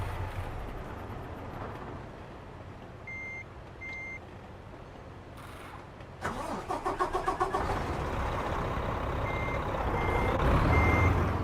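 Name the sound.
truck engine starting, American Truck Simulator video game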